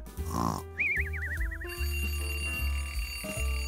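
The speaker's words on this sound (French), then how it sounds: "Mais le réveil sonnait encore." A cartoon alarm clock rings with a warbling electronic trill, set against a busy musical backing with bright chimes and low thumps, no talking.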